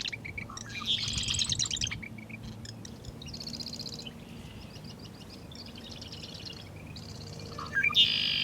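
Songbirds chirp in short bright bursts across a spring marsh at Great Meadows refuge, several calls overlapping over a steady low background rumble, with a louder trill closing the stretch.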